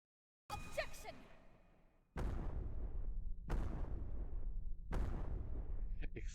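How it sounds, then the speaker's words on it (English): Explosions in the fantasy courtroom video game Tyrion Cuthbert: Attorney of the Arcane, three heavy booming blasts in steady succession, each with a long rumbling decay, loud and close after a quieter opening burst. "Explosions all around."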